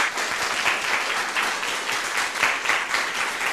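Audience at a talk on contributor agreements giving a steady round of applause, dense continuous clapping from many hands lasting a few seconds.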